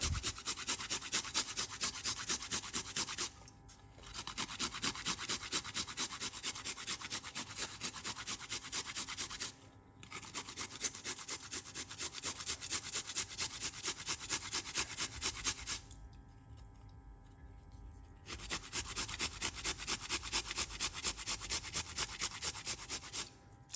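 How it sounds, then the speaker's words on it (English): Fresh ginger is rubbed against a grater in steady, close rasping strokes, with brief pauses between runs of grating. "Let's grate this piece of ginger."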